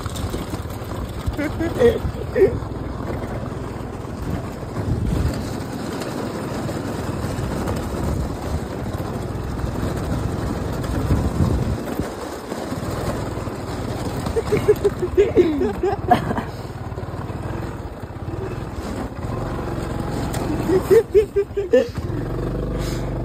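A car on a road returning from Neral, its steady engine and road rumble running throughout with wind buffeting the microphone, while people talk over it nearly the whole time.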